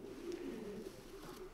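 A racing pigeon in a loft coos softly and continuously, a low, throaty burbling that is close, steady and otherwise unaccompanied.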